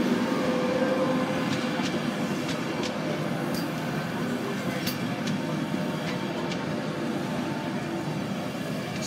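A train passing through Doncaster station, a steady, loud rumble and rolling roar that holds evenly from start to finish with no voices over it.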